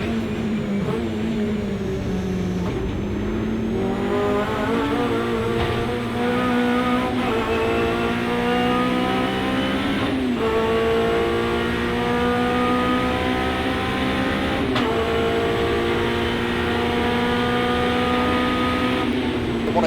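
Hot hatch race cars, including a Peugeot 106, race at Silverstone in the wet with steady, loud engine drone and repeated quick upshifts. Revs rise and drop in a cyclic pattern while a commentator talks over the engines.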